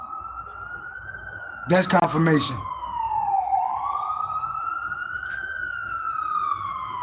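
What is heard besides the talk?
sirens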